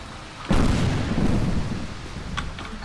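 A grenade blasts open a door in the Tomb Raider Legend video game: a sudden loud boom hits after a short pause, then rumbles and decays over a couple of seconds, with a few faint clicks near the end.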